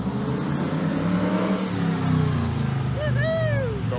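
A V8-swapped car is driven hard to test for a rev-limiting fault, its engine roaring steadily at high revs and close by. Rising and falling whistling tones like a car alarm come in near the end.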